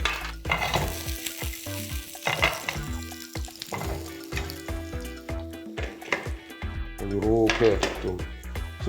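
Garlic fries in oil in a pan for a soy-braised beef pasta, giving a continuous crackling sizzle broken by the clatter of stirring utensils and pans, with brief talk nearby.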